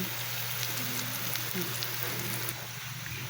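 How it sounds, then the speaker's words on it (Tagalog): Rain falls in a steady, dense hiss that is close and even, with no pause throughout the short stretch. "May ulan pa ngayon."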